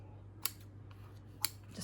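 Scissors snip the loose ends of a double-knotted ribbon, giving two sharp, close cuts about a second apart over a faint steady hum.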